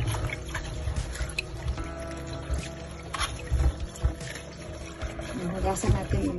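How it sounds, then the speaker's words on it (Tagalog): Water being poured off cassava after a day of soaking, a soft, uneven splashing and trickling pour heard close by at low volume, with some faint background clatter. "kunan na natin yung tubig at igasan natin ulit"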